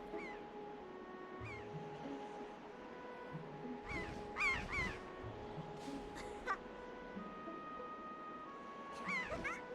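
Squawking calls of a giant bird in The Legend of Zelda: The Wind Waker ring out in short bursts over a sustained tonal music bed, several caws spaced across the stretch at moderate loudness.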